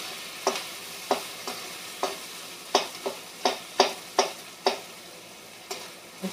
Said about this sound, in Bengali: কাঁচা লঙ্কা আর এই পেঁয়াজ দিয়ে একটু নেড়ে দিই